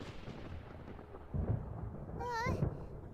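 A thunderstorm rumbles in the Genshin Impact video game, a low rolling crash swelling near the end beneath game music with a rising tonal whistle, while someone talks.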